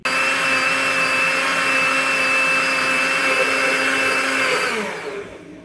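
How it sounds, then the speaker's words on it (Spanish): Blender whirring steadily as it mixes a coffee flan base with dissolved gelatin. A loud, continuous motor whine runs for about five seconds, then winds down and stops. "Vamos a añadirla y vamos a licuar por unos 10 segundos más."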